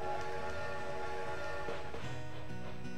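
Train in the Animal Crossing video game rumbles steadily for a few seconds, a continuous moderate-loud hum of rolling carriages with faint tonal layers and no speech over it.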